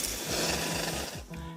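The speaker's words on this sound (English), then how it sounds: "You can blow right into the pockets" Breath is blown close and loud into the pockets of a paper origami star, giving a rushing, fluttering burst with a low rhythmic rattle as the paper spins, then a brief pause before more blowing. No one talks.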